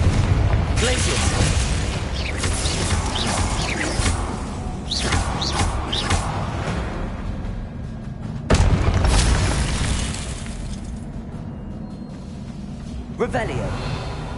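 Spell blasts in Hogwarts Legacy, a fiery Confringo explosion among them, with booming bursts and thumps in a steady flurry of combat effects, loud and close.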